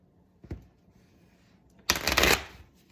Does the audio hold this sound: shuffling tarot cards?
yes